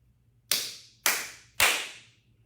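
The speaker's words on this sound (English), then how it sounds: "we clap 3 times" Three sharp, evenly spaced hand claps ring out clearly in a quiet space, each with a short decaying tail.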